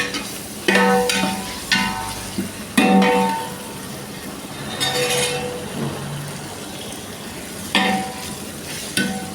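Tomatoes and masala sizzle and fry in a pan while being cooking a biryani, with soft steady frying hiss broken by several sharp clinks and scrapes of a spoon stirring against the pan; no talk.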